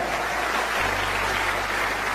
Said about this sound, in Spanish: Alguien tiene que adorar más que eso con un aplauso.